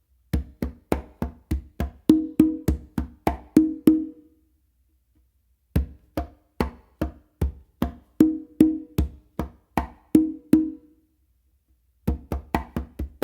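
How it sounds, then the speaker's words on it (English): A simple tumbao rhythm on a conga drum: a steady, close, loud run of hand strokes mixing deep bass tones, slaps and ringing opens. It pauses briefly twice and then resumes, with no voices. "that's what adds a little bit more spice to this simple tumbao."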